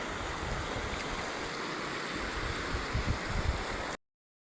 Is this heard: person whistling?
no